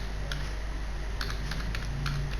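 Sparse, faint keyboard taps as C code is typed on a computer keyboard, a few scattered clicks sitting under a loud, steady hiss and hum.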